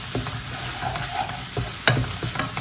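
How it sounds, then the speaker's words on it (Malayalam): Coriander powder and masala sautéing in a pan for fried paneer butter masala, a steady low sizzle with scraping stir strokes and one sharp clink near the end. "1/2 സ്പൂണ് മല്ലിപ്പൊടി, അത് രണ്ടും കൂടെ ഒന്ന് വഴറ്റുക."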